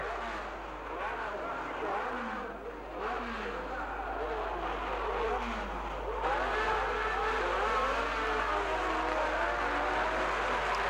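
Formula 1 race cars at the 1960 Monaco Grand Prix, their engines heard as rising and falling revving whines that sweep past continuously, with a voice faintly present over the dense motor din.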